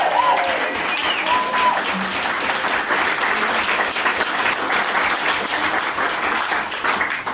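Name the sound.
wedding guests applauding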